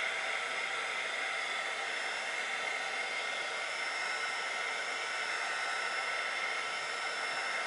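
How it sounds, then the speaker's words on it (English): A heat tool blows steadily on light gauze, a continuous loud hiss of rushing air like a hair dryer, unbroken from start to finish with no talking. "Now I'm going to use the heat tool again."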